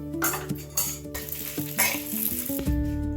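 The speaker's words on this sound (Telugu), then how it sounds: "కొంచెం నూనె పోసుకొని అదే మూకుల్లో ఎండుమిరపకాయ ముక్కలు కూడా వేయించేసుకుందాం" Dried red chili pieces fry in a little oil in a pan, with stirring, scraping and clinking of utensils against the pan over a sizzle, close and fairly loud.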